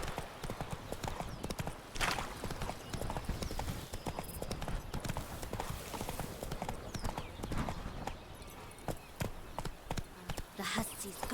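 The horse Roach trots in the video game The Witcher 3, its hooves clip-clopping in a steady rhythm beneath occasional speech.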